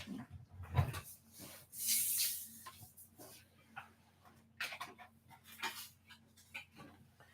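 A dog panting and snorting close by in irregular bursts, with scattered small ticks and knocks around it.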